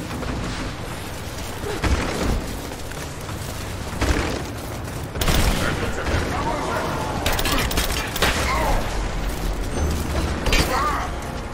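Gunfire from several directions in Rise of the Tomb Raider, with rapid bursts and booming shots overlapping in a dense, steady barrage alongside mechanical clatter, under excited talk from a player.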